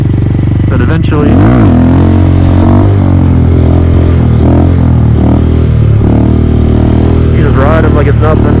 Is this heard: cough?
no